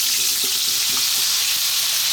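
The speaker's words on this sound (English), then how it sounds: "So we've got this beautiful oil here, nice and hot. We're going to start off by dropping in our potatoes." Potatoes frying in hot oil for a fish curry, a steady broad sizzle held at even loudness throughout, with a few faint low knocks underneath and no talking.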